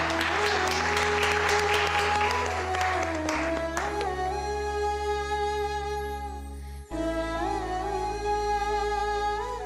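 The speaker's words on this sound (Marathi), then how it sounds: "टाळ्या." Audience applause breaks out at a prize announcement in a Marathi TV serial, a dense clatter of clapping at first that carries on under sustained background music.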